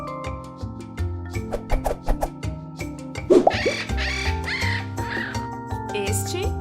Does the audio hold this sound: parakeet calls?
yes